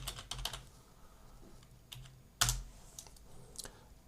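Computer keyboard typing at a desk: a handful of sharp, separate keystrokes in an uneven rhythm, close and fairly quiet, with one louder clack midway.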